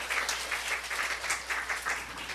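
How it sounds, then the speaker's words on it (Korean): A church congregation applauds during a Sunday service in Seoul, a soft, continuous patter of many hands clapping together, heard faintly from a distance without talk over it. "우리 하나님께 영광의 박수 올려드려요"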